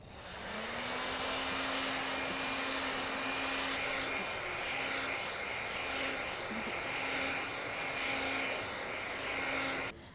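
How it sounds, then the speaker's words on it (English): A hair blow dryer whirs steadily at moderate volume with a constant airy roar and a faint whine, running for about ten seconds without talk. "I do keep the blow dryer moving"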